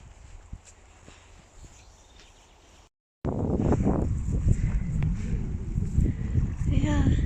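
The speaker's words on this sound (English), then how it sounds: "It's windy here" Outdoor wind while painting: a soft breezy hiss at first, then after a short gap heavy gusts buffet the microphone with loud low rumbling, and a voice speaks over it.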